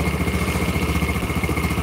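A Yamaha Jupiter Burhan motorcycle engine idles steadily up close, with a fast, faint ticking knock from a faulty connecting rod running through its low rumble.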